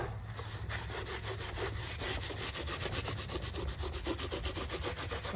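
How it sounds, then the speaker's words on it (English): Rag rhythmically rubbing and wiping excess aging wax off a painted thrift-store home decor piece, a fast, even series of close scrubbing strokes, quiet and unbroken. "Now I'll go in with the aging wax. And wipe off the excess."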